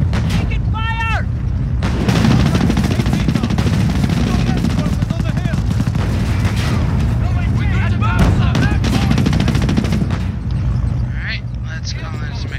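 Gunfire and explosions in the Company of Heroes: Opposing Fronts British campaign: loud continuous battle noise with rattling bursts and booms, and brief game voice lines over it.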